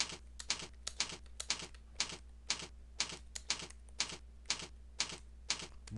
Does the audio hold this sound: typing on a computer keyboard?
yes